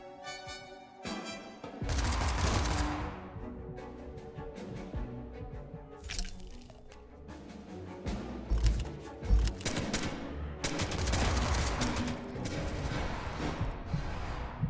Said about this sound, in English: I can just use the assault rifle